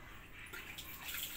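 Water running into a basin for hand-washing laundry, a quiet continuous splashing hiss with no talk over it.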